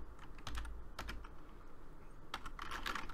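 Typing on a computer keyboard while entering frequency values into a NanoVNA-Saver ham radio program, a quick irregular run of crisp key clicks with short pauses, close and alone with no talking.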